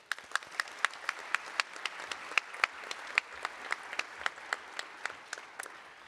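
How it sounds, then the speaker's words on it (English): Families and educators receive a round of applause at a scholar ceremony, a moderate, hall-filling wash of clapping with a few sharp, close individual claps standing out over it for about six seconds. "please join me in giving one big round of applause to your families and your educators."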